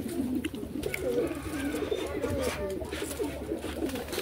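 Khoyra-necked Hurricane-line racing pigeons in a loft coo in overlapping low rolling phrases, loud and close, with faint voices in the background.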